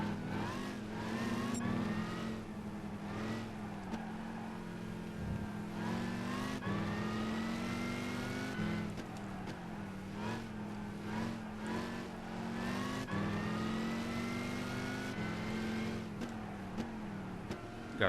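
Muscle car engines racing in Gran Turismo 5, including a C3 Viper, drone loudly and continuously, with pitch rising and falling through gear shifts and revving as cars run close together.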